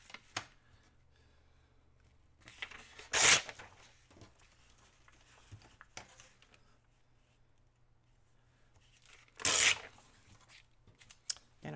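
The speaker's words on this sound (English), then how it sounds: "so I'm just going to tear that." Paper bag being torn by hand for a craft clutch: two loud, brief ripping bursts several seconds apart, with soft rustling and handling noises between them in an otherwise quiet room.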